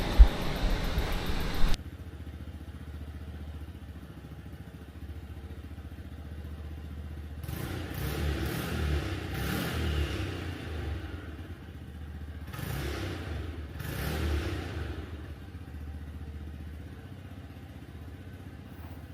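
Cars with engines running at night near apartment homes, a steady low engine rumble with a loud clattering thump at the start, then several rising revving bursts and scraping noises, fairly near, with no talking.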